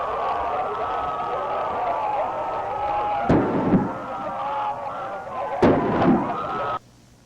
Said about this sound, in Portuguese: a gente consegue ouvir o som da guerra contra os infectados